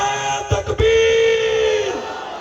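Crowd at a religious gathering in Gujranwala shouting a slogan in unison in response, a loud sustained chorus of massed voices after a brief burst of sharp shouts, holding steady for over a second before cutting off.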